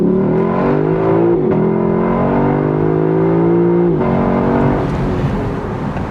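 The engine of a 2025 Lexus LC 500 convertible accelerates hard, its tone climbing through the gears with two quick upshifts that briefly drop the pitch. It sounds loud and close from inside the car, with no talking.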